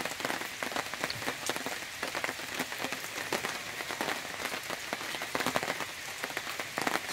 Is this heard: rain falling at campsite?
yes